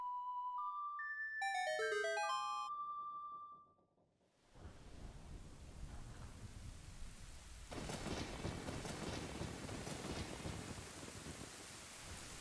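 A short ocarina melody from Ocarina of Time, set in Kakariko Village, plays as clear descending notes. After a brief pause, loud rumbling thunder and steady heavy rain follow.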